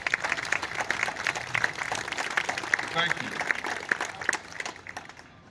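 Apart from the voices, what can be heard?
audience applause for county and city officials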